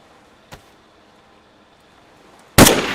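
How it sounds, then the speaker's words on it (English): A single sharp gunshot rings out in the survival game DayZ, loud and close near the end after a faint earlier crack, with a ringing tail trailing off. "You hear that gunshot by any chance?"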